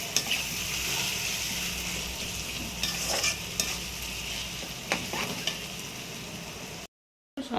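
Onions fry in a pan with a continuous sizzle under repeated scraping and stirring strokes, then the sound cuts off briefly near the end.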